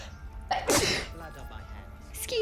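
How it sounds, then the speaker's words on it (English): A single sharp sneeze bursts out close to the microphone, with brief vocal sounds just before and after it and faint game audio underneath. "It's early for the 8 o'clock sneeze"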